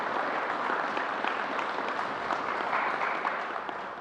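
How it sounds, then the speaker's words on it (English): A crowd at a government COVID briefing claps in a sustained, dense round of applause, steady and fairly loud throughout before tapering slightly at the end. "Let's give Ms. Lewin another round of applause for getting it done."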